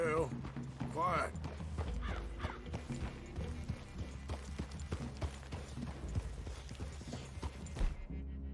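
Horse hooves clip-clopping in Red Dead Redemption 2 as a group rides toward a clearing near a cabin, a steady walking rhythm under speech and background game sound.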